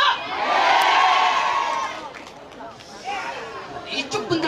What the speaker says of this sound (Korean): 이쪽 분들만 소리 지르신 것 같은데